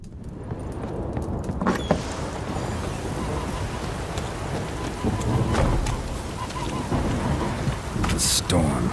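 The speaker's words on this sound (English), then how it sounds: "The storm, damn it." Steady heavy rain in a thunderstorm from The Witcher 3: Hearts of Stone, with rolling thunder rumbling and a few sharper cracks over the continuous downpour, fairly close and full throughout.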